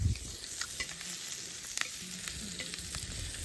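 Food sizzling on a hot tawa griddle while being stirred, a steady frying hiss with occasional scraping clicks, close and continuous without talk, at a non-veg party cookout.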